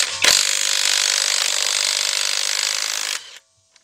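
A cheap half-inch drive impact gun with a 22 mm socket removes a bolt during a timing chain job, giving a loud, close, continuous burst of about three seconds that cuts off abruptly, with no talking.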